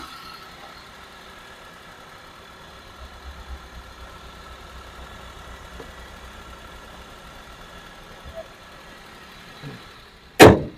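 A 2012 Maruti Wagon R LXi CNG-petrol car idles with a steady, quiet low engine hum for about ten seconds, ending in one sharp, loud click or knock.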